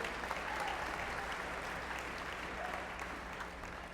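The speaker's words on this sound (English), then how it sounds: "we'll all give you a round of applause" Steady, dense applause from an audience at a Pacific University lu‘au fills the whole stretch as coordinators are introduced, holding at an even level with slight fading toward the end.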